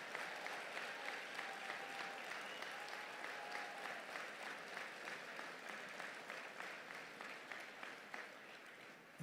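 Steady applause from an audience at the Broyles Award ceremony honoring the best assistant high school coaches in America, a dense sustained clapping that stays even throughout and fades only slightly near the end.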